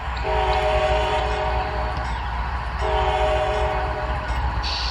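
An HO scale model coal train departs from Asheville with its horn sounding in two steady tonal blasts over a continuous low rumble and rail noise, loud and close.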